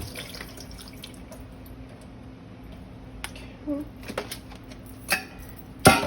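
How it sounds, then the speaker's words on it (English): Tap water runs gently over strawberries rinsed in their plastic container, a soft steady flow with a few drips and light plastic knocks, louder bumps near the end. "the strawberries, I'm going to go ahead and rinse them right in this little thingy that they're in right here"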